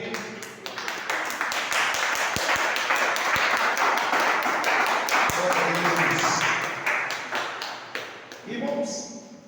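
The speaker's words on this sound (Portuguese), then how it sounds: "Vamos aplaudir o Senhor" A church congregation claps together in praise, a dense, sustained wash of hand claps with sharp individual taps, loud and close, while a voice leads over it and some singing or speech surfaces near the end.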